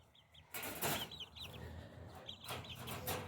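Young chicks cluck and peep in short, close bursts, giving a few soft chirps and clucks with brief rustling between them in a quiet outdoor setting.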